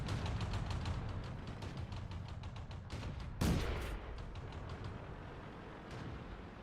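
Tank gunfire in a World of Tanks battle, a single loud cannon blast near the middle over continuous engine rumble and the crackle of distant battle, with no talking.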